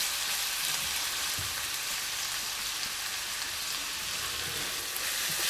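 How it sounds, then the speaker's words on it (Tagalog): Celery and garlic frying together in a pan while being stirred, giving a soft, even hiss with faint scraping, fairly quiet and unbroken, with no voices. "Pinagsabay ko na po ngayon ng celery at saka garlic. Haluin po natin."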